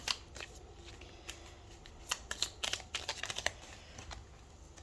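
Oracle cards are shuffled by hand in a quiet room, a close series of soft, papery riffles and flicks that pick up speed into a busy burst midway, with no voice over them.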